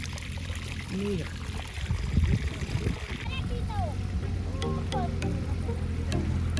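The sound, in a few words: flowing stream water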